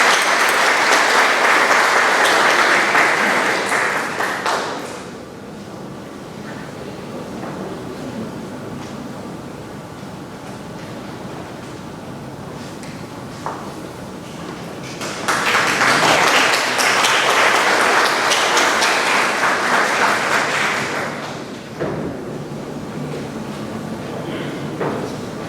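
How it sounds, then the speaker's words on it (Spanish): An audience at a lecture on constitutional control claps loudly and steadily for about five seconds, quiets to a murmuring room, then breaks into a second long burst of applause. "Un aplauso, por favor."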